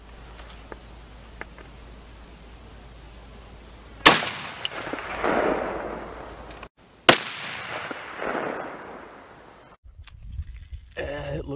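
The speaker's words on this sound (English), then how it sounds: "Let's shoot that level 4 panel and see what happens. Again, this is the Barnaul 145 grain FMJ." Two sharp, loud rifle shots from a 300 Blackout firing Barnaul 145 grain FMJ rounds at a level 4 armor panel outdoors, each a sudden crack followed by a long fading rumble, with a later muffled thump.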